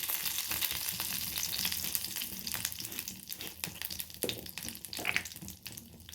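Curry leaves, mustard seeds, cumin and asafoetida fry in hot oil for a breakfast chutney, giving a steady close sizzle with sharp crackles and pops throughout.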